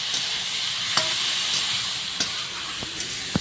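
Pointed gourd, shrimp and potato are stirred into a spice paste of cumin frying in a pan, a steady sizzle with scraping spatula strokes and clinks at intervals.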